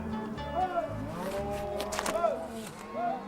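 Cattle mooing on a ranch in Argentina, in open country among a herd: several drawn-out, moderately distant moos overlap one another against soft outdoor background.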